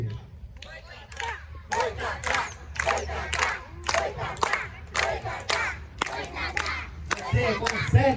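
Spectators at a forest-adventure theatre show shout and cheer for a performer in repeated bursts, loud rhythmic crowd cries rising and falling with brief pauses between.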